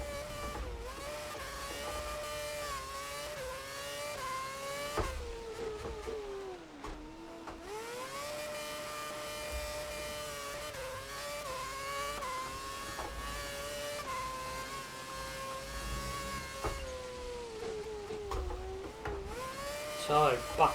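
A Williams Formula One car in the F1 2011 racing game drones steadily through the pits, its engine whine holding a high pitch and dipping as it slows, continuous and close.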